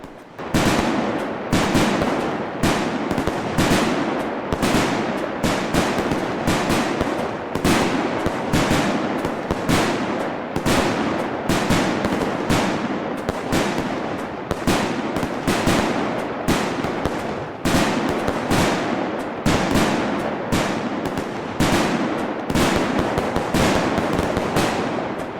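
A simulated fireworks cake fires rapid, evenly spaced bangs and crackles for about twenty-five seconds. The bursts are loud and come in a noticeably repeating pattern.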